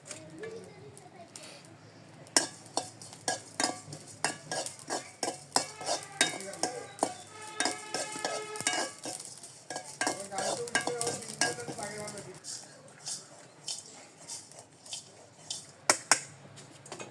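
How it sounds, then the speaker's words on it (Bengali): Coriander, cumin, cinnamon and cardamom dry-fry together in a pan for khichuri, giving a soft sizzle punctuated by repeated spoon scrapes and clinks against the metal, fairly quiet and close. "ধনিয়া, জিরা, দারুচিনি, এলাচ একসাথে ভেজে নিচ্ছি"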